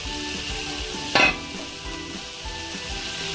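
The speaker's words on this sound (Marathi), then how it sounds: "हे जे कांदा आपण कट करून घेतलेला आहे तो टाकून घेऊया." Chopped onion fries in a spice masala with a continuous close sizzle. A brief sharper crackle comes from stirring early on, and the hiss stays steady afterward.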